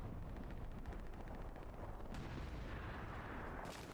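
Gunfire crossfire during a competitive video game match, with a dense, muffled roar of distant shots and booming blasts rolling on continuously at low level.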